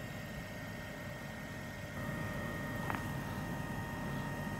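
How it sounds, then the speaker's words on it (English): Air suspension compressor on a 2008 Range Rover Sport HSE, heard on a cold day as a faint, steady mechanical hum that steps up slightly partway through and keeps running without pause. "It is not abnormal for the compressor to run after it has reached its position, especially when it's this cold."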